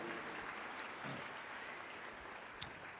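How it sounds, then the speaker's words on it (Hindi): A church congregation claps hands to thank God, a faint, steady wash of many hands clapping together with a brief louder clap near the end. "ताली बजाकर परमेश्वर का थैंक्स करिए इस वचन के लिए।"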